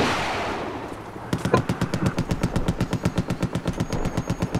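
Automatic weapon fire in Battlefield 4 on the Golmud Railway map rattles in a steady rhythmic burst of evenly spaced sharp shots, loud and close, following a brief stretch of rumbling background.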